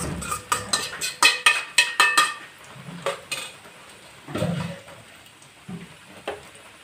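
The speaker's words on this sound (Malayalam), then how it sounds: "നമുക്ക് അതിലേക്ക് വേവിച്ച് വെച്ച ഈ ഉപ്പുമാവിൻ്റെ കൂടി അതിലേക്ക് ഇട്ട് കൊടുക്കാം." Cooked rice-flour upma tipped into a tempering pan, with a quick run of sharp metallic clinks and scrapes of a spoon against the pan, then scattered softer knocks and scraping, close by.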